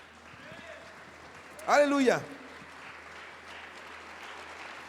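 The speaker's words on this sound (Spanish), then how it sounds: "Denle una ofrenda de palmas a su Señor" A church congregation claps as an offering of applause to the Lord during a service. The clapping is soft and continuous in the background, while a single voice calls out loudly over it midway.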